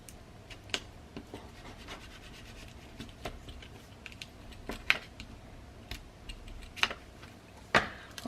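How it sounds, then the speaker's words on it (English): Regular Scotch tape snaps and crackles as it is pulled and pressed over a mini album cover, with sharp intermittent ticks and rustles, close but faint. "I'm gonna just take some regular Scotch tape here, and I'm gonna go over top"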